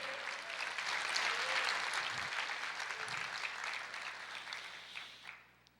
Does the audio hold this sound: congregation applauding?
yes